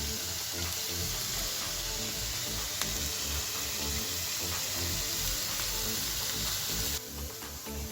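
Beans and carrots frying in a pan, a steady, close sizzle with soft hissing throughout and a brief drop in intensity near the end.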